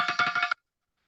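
A small phone rings on a game show set with a bright, warbling electronic ringtone pulsing rapidly for about half a second, then stopping abruptly into silence, close and clear with no talk.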